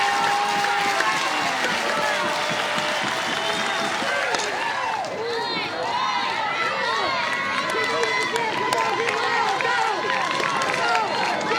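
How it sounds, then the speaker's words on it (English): A softball stadium crowd at an NCAA regional final between Alabama and Arizona State roars and cheers in a loud, continuous wash that stays steady throughout, with an announcer's voice faintly mixed in. "Crowd gets into it."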